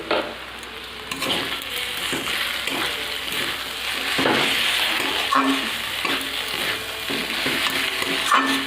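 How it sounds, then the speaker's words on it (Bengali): Red amaranth greens are stirred in a frying pan, a steady close sizzle broken by repeated scraping and clinking of the spatula against the pan. "শাকটাকে আমি ভালো করে নাড়িয়ে নেব।"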